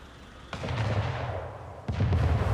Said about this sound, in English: the cannons actually sound rather nice, don't they?